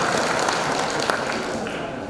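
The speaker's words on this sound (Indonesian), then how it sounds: "Jadi kita harus tepuk tangan kepada para retail." An audience at a retail industry opening ceremony in Jakarta claps in a steady, dense wash of applause that continues evenly for a couple of seconds, with a faint tap partway through.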